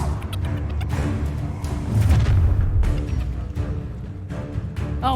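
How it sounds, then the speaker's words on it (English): An Incendiary fire spell going off in the video game Hogwarts Legacy, a loud booming burst of flame layered over ongoing combat noise, with sharp impacts scattered throughout. "Incendiary!"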